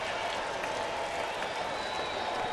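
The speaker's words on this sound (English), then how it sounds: "This might be the loudest baseball crowd we've seen this year." A loud crowd at a Yankees–Orioles baseball game in Baltimore roars with a continuous, dense wash of cheering and applause that stays at full strength throughout.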